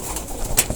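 Pigeons at a feeding spot give soft, low coos with a brief flutter near the middle, close by and moderately loud, with no one speaking.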